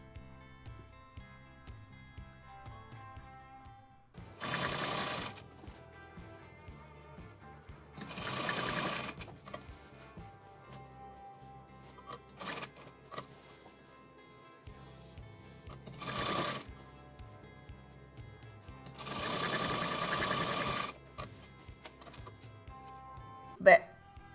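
Sewing machine stitching a double-folded saree hem for a lehenga, several short runs of even machine whirring separated by pauses with faint rhythmic clicking, no voices.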